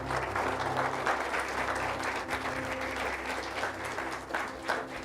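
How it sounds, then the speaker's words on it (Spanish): A church congregation claps in sustained applause, a dense steady wash of many hands close by with no talking over it. "Denle un aplauso al Señor."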